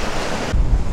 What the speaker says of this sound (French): Je vais aller filmer l'eau qui gicle derrière pour montrer la vitesse.